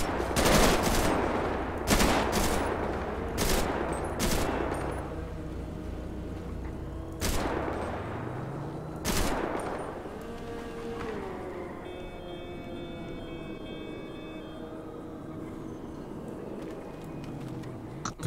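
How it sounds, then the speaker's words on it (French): Suppressive gunfire rattles out in a video game police shootout: several loud, sharp bursts and single shots in the first ten seconds, then quieter lingering ambience with faint tonal sounds. "Bravo les tirs de suppression."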